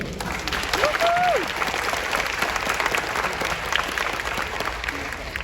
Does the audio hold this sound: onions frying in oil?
no